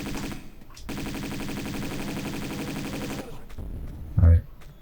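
Rapid Uzi gunfire in the game Tomb Raider 2, a sustained dense burst of automatic shots lasting a couple of seconds, followed by scattered quieter game sounds and a brief low thump.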